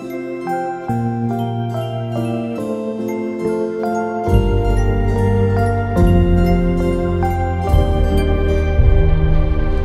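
A Korg PA5X arranger keyboard plays a multi-layer synth pad program, with several tones stacked. Sustained chords with tinkling upper notes are joined midway by fuller low bass layers, steady and fairly loud, with no talking.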